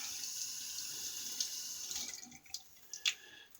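Tap water running steadily into a sink as a face is wetted before a wet shave, with a few splashes and drips near the end and no talking.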